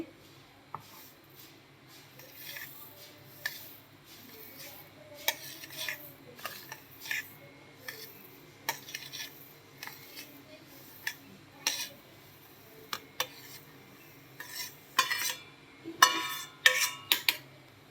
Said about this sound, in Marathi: आता आपल्याला हे मिक्सरच्या भांड्यामध्ये काढून घ्यायचे